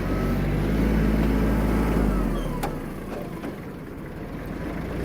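Kubota KL-230 FL Japanese mini tractor engine idling steadily after warming up, a close, continuous low rumble that eases slightly midway and holds on alone.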